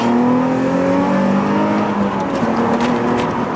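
A Nissan 350Z's 3.5-litre V6 VQ engine, fitted with sports cats, revs hard and screams at close range. The loud, sustained engine note shifts in pitch as it climbs and falls, and no one speaks over it.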